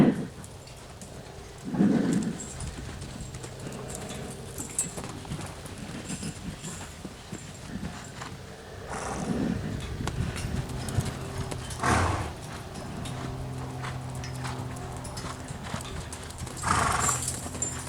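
An off-track thoroughbred mare canters in an arena, her hooves clip-clopping in a steady rolling rhythm at moderate distance, with a few louder thuds and snorts along the way.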